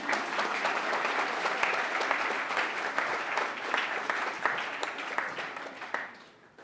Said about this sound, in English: I will accept applause, thank you.